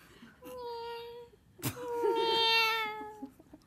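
A person imitates a cat with two drawn-out, whiny meows, the second louder and longer, heard alone and fairly close.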